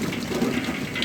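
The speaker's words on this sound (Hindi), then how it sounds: "तो अभी इसमें हम डालेंगे सब्जियां। माशाल्लाह जी आलू और मटर ऐड करेंगे।" Potatoes and peas tipped into a pot of spices for aloo matar pulao give a brief, steady hissing rush with no voices.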